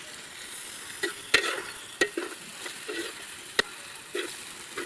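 Tomatoes hit a hot pan of raw jackfruit and prawn curry, giving a soft steady sizzle broken by a few sharp spoon knocks and scrapes against the pan, close and quiet with no voices.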